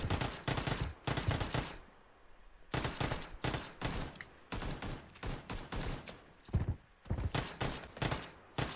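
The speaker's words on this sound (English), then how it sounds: "There's more gunfire" Gunfire in a shooter video game, with dense bursts of rapid automatic fire and fusillades repeating in clusters over several seconds, loud and close with short gaps between volleys.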